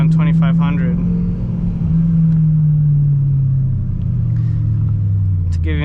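A BMW E92 M3 V8 idling while it warms up on a chilly morning, a steady close low engine hum that slowly drifts lower in pitch, with someone talking over it.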